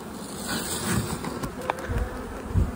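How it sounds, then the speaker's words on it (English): Dense, continuous buzzing of a mass of bees in a hive box nearby, with a few soft thumps and bumps underneath. "Your box of bees."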